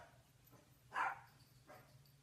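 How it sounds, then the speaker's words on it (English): Dogs at a country home on five acres give one short, faint bark in the distance against a quiet hum, with a softer second yelp shortly after. "My dogs are barking again."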